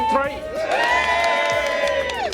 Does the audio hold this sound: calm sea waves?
no